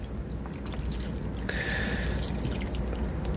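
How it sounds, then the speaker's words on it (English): A bottle of water is poured into a soft, silicone-like mixture used for disposing of medicines, giving a steady, faint liquid rush with dripping close by and no speech. "I am going to add more water to this, and I'm just going to use a whole bottle"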